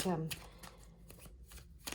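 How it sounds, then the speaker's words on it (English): Playing cards being shuffled and split into two piles during a gold-and-blue card reading, a quick riffle burst at the start followed by softer card rustles, with a person talking over it. "there's 2 cards that need to be shuffled here."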